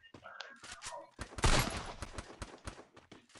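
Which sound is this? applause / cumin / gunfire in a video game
gunfire in a video game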